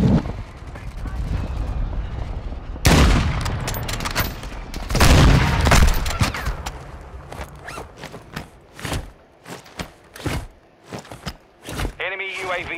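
Bursts of gunfire crack through a Call of Duty Warzone 2.0 match, with a dense, loud volley early on followed by scattered sharp single shots and short rattling strings, under frequent game radio voice callouts.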